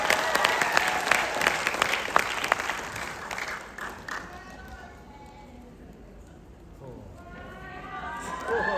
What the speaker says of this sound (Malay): Bagi anda satu tepukan yang kuat.